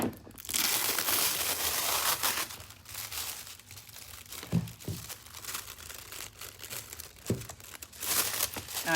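Aluminium foil crinkles and crumples steadily as it is pressed and smoothed over a Halloween pumpkin, close and continuous, with a few sharper crackles.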